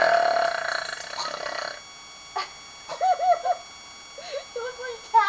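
A person lets out a series of short, croaking burps, several separate gulping bursts after an opening stretch of lower noise, close to the microphone.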